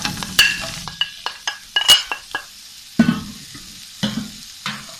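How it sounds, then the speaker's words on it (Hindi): Onions frying in a few tablespoons of oil in a kadhai for a chicken salan, with a light sizzle under repeated close scrapes and clinks of a metal spoon against the pan in an uneven rhythm. "और इसको थोड़ा सा फ्राई कर लेते हैं, इतना कि प्याज सॉफ्ट हो जाए"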